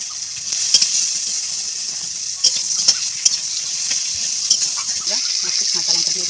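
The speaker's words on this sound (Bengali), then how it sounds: "অল্প করে দুটো পেঁয়াজ কুচি দিয়ে দিলাম, ভালো করে ভেজে নেবো।" Chopped onion and bay leaves fry in oil for a crab and banana-flower dish, a steady hissing sizzle broken by soft scraping stirs and occasional clinks, close and continuous.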